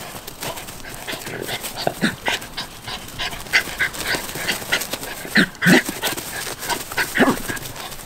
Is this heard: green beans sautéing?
no